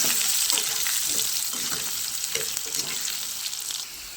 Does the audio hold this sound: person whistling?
no